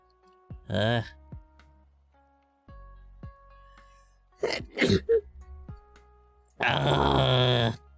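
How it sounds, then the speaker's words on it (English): After a few breathy grunts and quiet gaps, a person lets out one loud, close sneeze near the end. "I got to sneeze."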